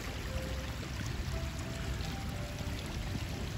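A small stream of water flows in a steady, close, continuous rush, with no voices over it.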